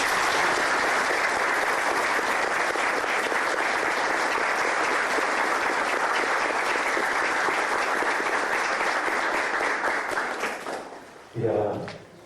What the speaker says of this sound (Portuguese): eu peço uma salva de palmas para a nossa mãe